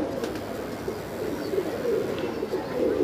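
Young pigeons coo softly and repeatedly close by, low throaty burbling calls over a faint background hum.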